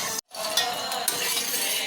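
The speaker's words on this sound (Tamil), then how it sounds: "ஆலிவ் ஆயில் ஊற்றி கடலைப்பருப்பு உளுத்தம்பருப்பு போட்டு ஃப்ரை பண்ணியிருக்கோம்." A pan of chana dal and urad dal frying in olive oil, stirred with a utensil that scrapes and clinks against the metal, over a steady hiss of sizzling and broken by a brief silent gap near the start.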